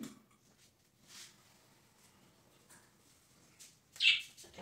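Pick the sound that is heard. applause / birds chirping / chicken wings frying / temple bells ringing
birds chirping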